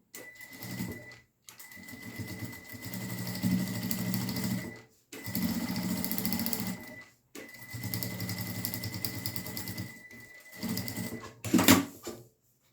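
A sewing machine stitches a seam on a fabric phone wallet in a craft workshop, running in four or five steady whirring bursts of a few seconds each, separated by short pauses, close and clear with no voices.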